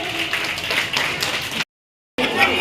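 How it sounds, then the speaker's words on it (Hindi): Audience applause greets a healthy local dish prepared at an Indian-language summer camp cooking activity; steady, fairly loud clapping runs for about a second and a half, breaks off into silence, then resumes. "इनके लिए भी एक बार हम लोग स्वागत से जोरदार तालियों से"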